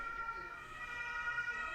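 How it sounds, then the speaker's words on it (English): A faint, steady siren wails in the distance in Germany, holding a level tone for the whole stretch without pausing, with a low background murmur beneath it. "As we hear the sirens in the background in Germany"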